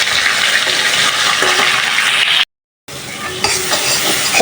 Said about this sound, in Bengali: মশলাটা ভালোভাবে কষাই নিচ্ছি তরকারির জন্য